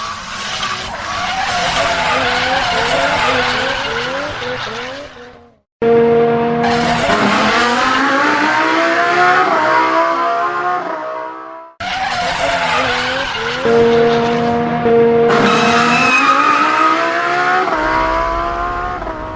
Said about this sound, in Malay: Ada 2 kereta hitam laju dari belakang.